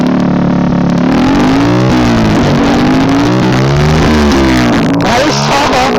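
A Hero Splendor motorcycle fitted with an Akrapovic exhaust revs loudly outdoors on a hill road, its engine note rising and falling through repeated throttle blips with a rough, rasping exhaust tone close to the listener.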